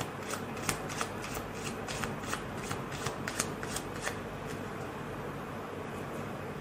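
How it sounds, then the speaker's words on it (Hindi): Ordinary playing cards are shuffled by hand at a magic show, with a run of crisp riffling bursts and snaps up close and no talk. "ये मेरे हाथ में ऑर्डिनरी प्लेइंग कार्ड्स हैं, इनको अच्छे से मैं मिक्स भी कर लेता हूँ"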